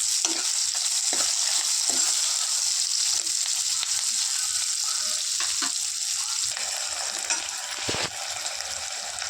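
Chopped onions and curry leaves fry in hot oil in a kadai, giving a steady broadband sizzle throughout with occasional stirring scrapes, close and fairly loud, with no talking.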